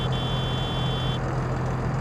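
A Landini 7230 Robo 6 tractor in Farming Simulator 22 sounds its horn in one sustained, steady high-pitched tone lasting about a second over the low idling engine, which keeps running after the horn stops.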